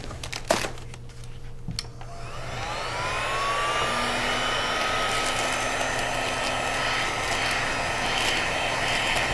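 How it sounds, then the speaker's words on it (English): A hot shot heat gun blows steadily while shrinking wrap film on an I-bar shrink wrapper, a loud continuous whooshing roar that builds after a few clicks and holds a steady rising whine. "It takes the hot shot heat gun just seconds to get to full temperature."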